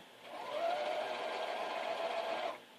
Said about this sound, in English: And then I'm going to sew it.